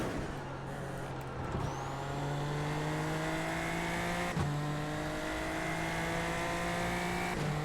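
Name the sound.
Super Formula Lights race car engine in iRacing video game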